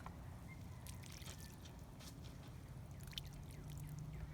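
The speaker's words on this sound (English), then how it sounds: "that's why I'm pouring it kind of slow. I'm trying to keep it just right around the plant." Water poured slowly around sun gold tomato plants, a soft continuous trickle and splash, faint and steady throughout with no talk.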